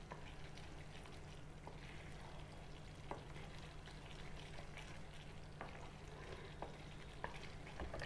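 Paneer in a creamy white gravy made without onion or garlic, seasoned with kitchen king masala, bubbles and sizzles steadily in a pan while a spoon scrapes and stirs it, with occasional sharper clinks against the metal.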